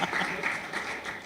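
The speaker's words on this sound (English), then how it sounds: "Round of applause for Pietro, everyone." Audience applause at a design collaboration presentation, a soft continuous patter of many hands clapping at moderate distance, steady for just over a second.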